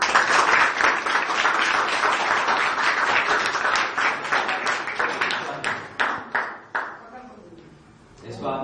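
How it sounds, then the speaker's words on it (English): Audience applause at a Rotary charity event where a sewing machine is presented to a needy girl; dense sustained clapping under talk, thinning into a few scattered claps before fading out. "give a big round of applause for this"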